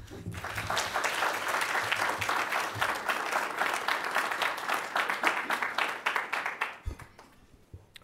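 Audience at a university lecture in Bloomington applauding to welcome former Treasury Secretary Paul O'Neill, dense sustained clapping from a full room that fades out near the end.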